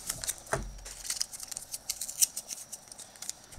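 The front panel of a cardboard 35mm film box is torn off by hand, making close, crackling rips and scratchy bursts of tearing card.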